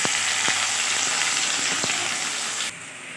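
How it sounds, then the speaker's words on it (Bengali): Onions fry in a hot wok with meat, giving a loud, close, steady sizzle with a few sharp clicks of stirring, then the sound drops slightly near the end. "তো পেঁয়াজটা অনেকটাই ভাজা ভাজা হয়ে এসছে।"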